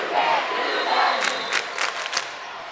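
Big crowd roaring and cheering in a gym at a high school girls' volleyball quarterfinal between Carroll Kuemper and Iowa Falls-Alden, a loud sustained wash with sharp shouts and claps toward the end.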